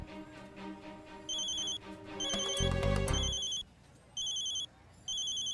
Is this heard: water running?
no